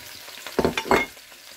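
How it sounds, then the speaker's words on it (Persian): Bitter gourd (karela) frying in olive oil, with a low hiss under a few quick stirring bursts, close and moderately loud. "روغن زیتون انداختیم و کریدر یک ذره سرخ میکنم"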